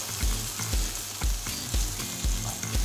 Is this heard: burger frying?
yes